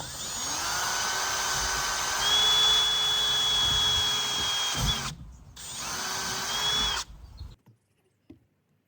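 A power drill whines steadily at high pitch for several seconds, drilling a small pilot hole through plastic and a van's metal roof, stops briefly, then runs again in a shorter burst before falling silent.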